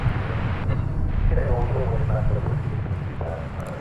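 An 11-year-old American Airlines widebody airliner at DFW Airport after a long-haul landing, heard as a broad, distant jet roar that swells and fades, with someone talking over it throughout.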